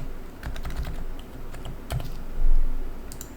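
Computer keyboard shortcut presses during Maya V-Ray rendering work, a quick cluster of close key clicks followed by a few scattered taps, fairly loud over a low room hum.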